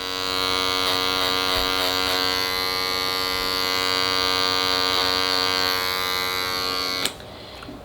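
Electric hair clippers buzz steadily through a clipper-over-comb haircut in a barbershop, a loud continuous motor drone with faint snipping textures, ending abruptly when switched off near the end.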